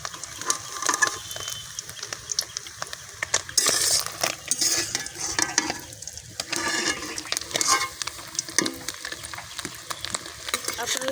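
Pieces of egg chhana frying in a pan, giving a steady busy sizzle with intermittent scrapes and clinks of a spatula against the metal throughout, with no voices.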